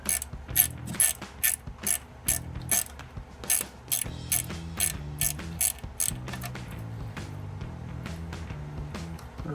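Hose clamp being tightened on a cold air intake on a GMC Sierra 1500, a quick run of sharp ratcheting clicks in short bursts, close and clear with no talking.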